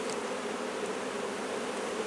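Honey bees buzzing at a small nucleus hive with a sealed-up entrance in a chemical-free apiary; a dense, steady, close hum of many bees, continuous and even, with no voices.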